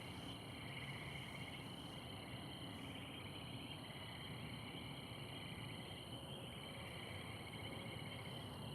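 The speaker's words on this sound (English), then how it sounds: "Now all you got to hear is the cicadas." Steady, dense insect buzzing fills the night air around a riverside catfishing spot, a continuous drone of cicadas with layered high-pitched trilling that holds evenly without pause.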